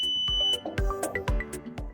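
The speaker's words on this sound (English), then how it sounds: "until it emits a long beep sound" A LetPot smart hydroponic garden gives a single high electronic beep while entering Wi-Fi pairing mode, lasting about half a second before rhythmic background music with punchy beats takes over.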